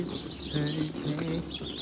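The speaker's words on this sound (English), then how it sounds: "Listen to the birds. They're singing back to me." Birds call outdoors, a pigeon-like cooing with soft chirps, moderately close and steady over a faint background hush.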